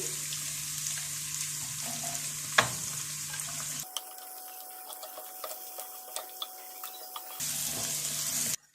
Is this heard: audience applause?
no